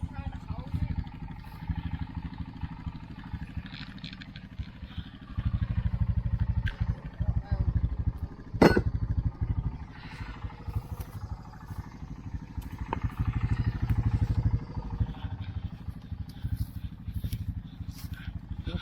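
A Honda 200 three-wheeler (Big Red) engine runs steadily up close while being ridden, its low rumble rising as it revs around five seconds, with a clatter near nine seconds and voices talking over it.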